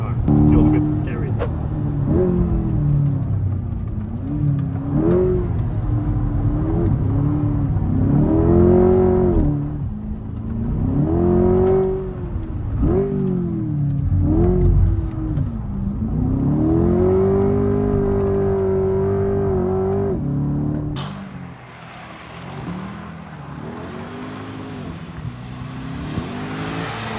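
A Corvette C8 supercar engine revs and surges while driving, rising and falling in pitch with gear changes, heard close and loud under someone talking, then dropping to a lower hum.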